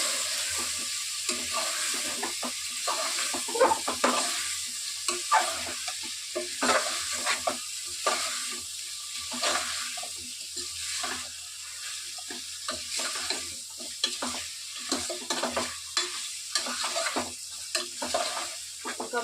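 Country chicken curry sizzles and fries in a pan while a spoon stirs it in repeated scraping strokes, close and steady under a constant hiss, with no talking.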